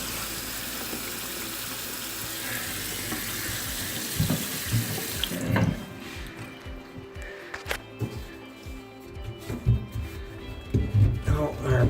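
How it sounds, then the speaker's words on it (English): A kitchen tap runs into the sink, a loud steady gush of water that then thins into softer splashing, with a person's voice heard briefly over it. "Taps running."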